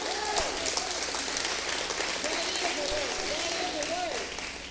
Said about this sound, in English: give God a big hand clap if you're going to help me preach